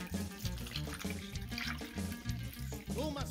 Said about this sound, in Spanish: luego le echamos una taza de agua